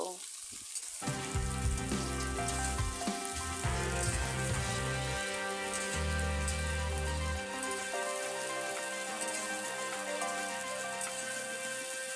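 Flat beans and potatoes fry in a pan with a steady, close sizzle throughout, while background music with sustained tonal notes plays over the cooking.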